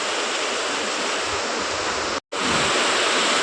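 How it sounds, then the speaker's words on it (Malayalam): Dense, steady roar of heavy rain pouring down, loud and unbroken apart from a brief cut near the end. "ഭയങ്കര മഴ ഭയങ്കര മഴ"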